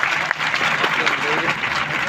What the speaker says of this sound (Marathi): एकदा जोरदार टाळ्या स्वतःसाठी वाजवा